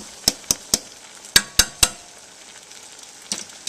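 Instant ramen noodles frying in a cast iron wok, heard as a soft steady sizzle broken by six sharp clacks of a utensil against the pan, then a few quieter scraping taps near the end.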